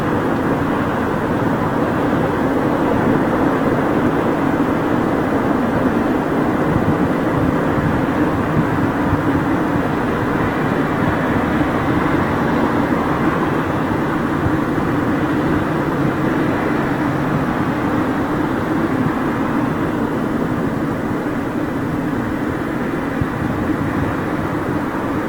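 A Virgin Atlantic Airbus A350 airliner departing Heathrow produces a steady, broad jet roar that holds at a constant loud level throughout, heard from a distance with no voices.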